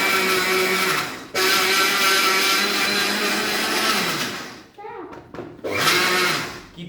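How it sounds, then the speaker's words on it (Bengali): An electric blender grinds rice into flour in loud whirring bursts that stop and restart, with short pauses between runs and a voice talking during the gaps. "চাল গুঁড়ি করার সময় ব্লেন্ডারে যারা গুঁড়ি করবেন"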